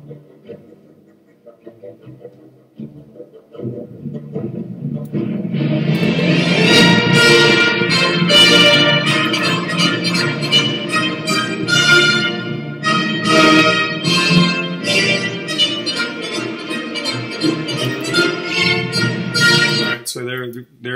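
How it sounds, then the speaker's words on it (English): A full orchestra plays a march-like fanfare from a fourth movement, led by the brass section. It starts quietly, swells after a few seconds into a loud, dense, sustained sound, and stays full and continuous to the end. "what you're hearing is like this march-like fanfare featuring the brass section."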